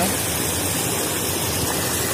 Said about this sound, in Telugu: వాటర్ దాదాపు చాలా ఫోర్స్తో వస్తుంది